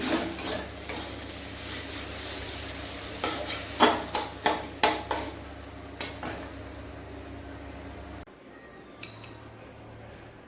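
Onions being stirred in hot oil in a pan, a spatula scraping and clinking in quick bursts over a steady sizzle, which drops away near the end to a quieter hiss with a faint tap.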